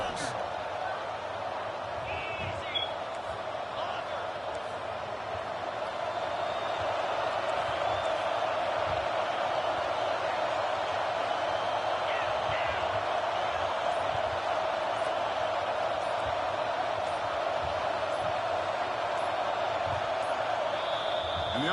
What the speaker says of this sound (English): they'll have to conquer this crowd noise